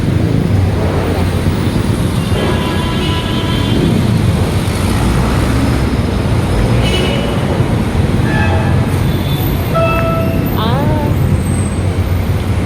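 A light rail train rumbles past with a loud, continuous roar and faint squealing tones, mixed with surrounding traffic noise.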